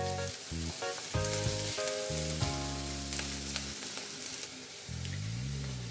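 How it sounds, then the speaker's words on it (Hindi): Onions fry steadily in oil toward golden brown, a continuous soft sizzle running under prominent melodic background music for the whole stretch. "ऑनियन को अच्छे से सेकना है। प्याज को आपको गोल्डन ब्राउन होने देना है।"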